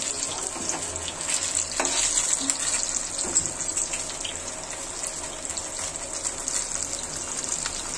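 Pieces of beef chap fry in hot oil with a continuous, dense hissing sizzle and occasional pops and clinks, close and steady throughout with no talking.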